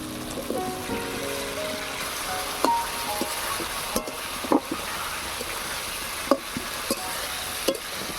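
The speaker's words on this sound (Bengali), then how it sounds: "মশলা থেকে তেল ছেড়ে দিয়েছে এবার আলুটা দিয়ে দেবো" Potatoes go into hot spiced oil with a continuous close sizzle, while a spoon stirs and clinks against the pan in scattered knocks.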